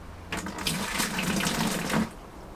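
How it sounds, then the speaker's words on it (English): Malt extract poured into water in a brewing tub, heard as a close, steady rush of pouring and splashing liquid lasting about two seconds, with no talking. "I'm going to pour the extract on top"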